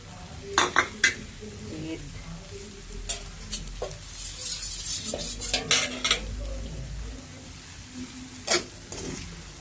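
Spoon and bowl sounds as scrambled egg is mixed into chicken lumpia filling, with clustered scraping clinks, brief knocks against the dish, and soft stirring between them. The sounds are fairly close and there is no talk.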